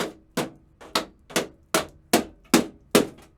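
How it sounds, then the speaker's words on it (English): Hammer blows struck while assembling a computer, seven sharp, fairly loud impacts in an uneven rhythm, each ringing briefly before the next, with no talking over them. "you may need to get the hammer in there"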